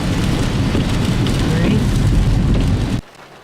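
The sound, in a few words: rain falling on a parked car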